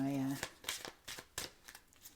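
Tarot cards are shuffled in soft, irregular riffling bursts after a brief voice at the start, close and fairly quiet.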